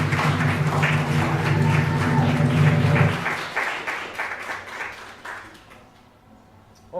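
Conference audience gives the presenters a round of applause, with a low hum and murmur under the first half of the clapping before it thins out and fades to near quiet.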